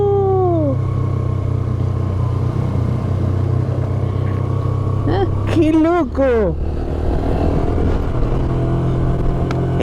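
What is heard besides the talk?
motorcycle riding in third gear at 40 km/h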